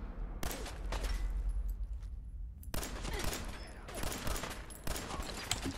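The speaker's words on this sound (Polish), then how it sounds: "kilka strzałów poszło oczywiście na niego" Gunfire in Fallout 4: several bursts of rapid automatic shots with sharp cracks, distant-sounding and fairly faint, separated by short quieter gaps.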